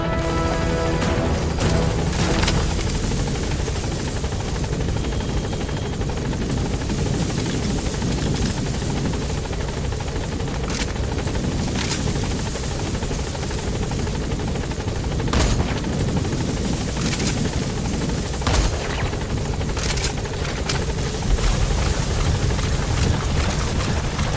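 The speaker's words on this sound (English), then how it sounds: "Support helicopter has arrived." A support helicopter's rotor chops loudly and continuously overhead in the video game Metal Gear Solid V: The Phantom Pain, with deep rumbling and occasional sharp thuds layered over the droning engine.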